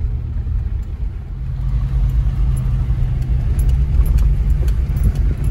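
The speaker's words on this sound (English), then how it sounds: "We're driving right now with the electronic sway bar disconnect on." Jeep Wrangler Rubicon rolling along a washboard road with its electronic sway bar disconnected: a steady low engine and road rumble with faint rattles above, continuous and fairly loud, no talking.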